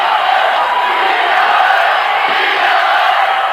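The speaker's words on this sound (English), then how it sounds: "The crowd is starting to chant beat LA." Arena crowd at the Boston Garden during a 1986 Celtics basketball game, a dense, steady roar of many voices rising into a chant, loud and continuous throughout with no break.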